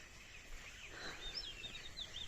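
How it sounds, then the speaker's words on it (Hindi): Birds chirp faintly in a village in Hamirpur, Himachal, with thin rising and falling calls over a quiet outdoor background. "पक्षियों की चहचहाट सुनो।"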